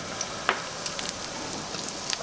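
Garlic sizzling in hemp oil in a pan, a faint, steady hiss with a few light crackles and pops scattered through.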